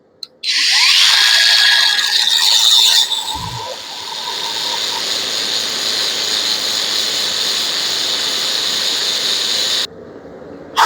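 A flat disc cutoff wheel on an angle grinder bites into steel for a fire poker, a loud high shriek that drops to a steadier grinding whine for several seconds before stopping abruptly.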